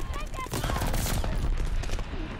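Gunfire rattles in a dense, chaotic Call of Duty Vanguard multiplayer match, with overlapping shotgun blasts and other weapons crowding together at steady loud volume.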